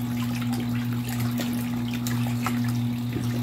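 Water runs steadily from a tap while clothes are washed, a continuous splashing trickle over a low, constant mechanical hum, close and with no voices.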